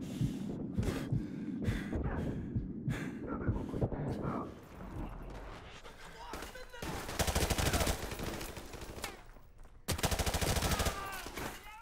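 Video game gunfire from a remastered campaign, with dense bursts of automatic fire and scattered single shots, loud and sustained across the stretch with brief gaps, amid battle noise.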